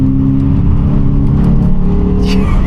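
Car taking a sharp bend at about 50 mph, heard from inside as a loud, steady engine drone with a low rumble and road roar, holding constant with slight changes in pitch.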